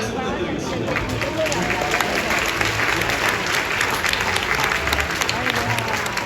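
A stadium crowd at a baseball retirement and jersey-number ceremony for pitcher Oh Seung-hwan applauds, a loud, sustained wash of clapping and cheering with crowd babble mixed throughout.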